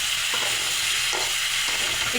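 Raw pumpkin and green chillies fry with prawns in a pan, a steady close sizzle broken by a few soft stirring scrapes, with no talking.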